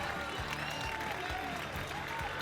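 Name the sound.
local crowd cheering and applauding a BMX rider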